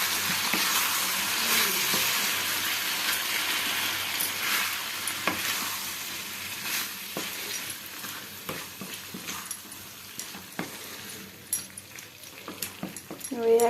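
Fried cabbage and potatoes are stirred and mixed with salt in a sizzling pan, making a continuous close frying hiss broken by irregular scraping and clattering strokes that grow sparser and more distinct toward the end.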